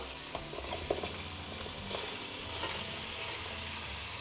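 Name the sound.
carrots, onions, garlic and green onion frying in pot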